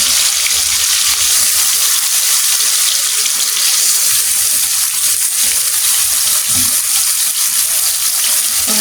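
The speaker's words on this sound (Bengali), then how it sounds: "আস্তে আস্তে ভাজা" Steady, loud crackling sizzle of chicken roast frying slowly in oil, continuous throughout with no voices.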